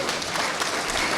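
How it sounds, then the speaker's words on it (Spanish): Audience at a university forum on national water law applauding, a dense continuous burst of many hands clapping for a short moment with no pauses. "Les pido un aplauso, por favor."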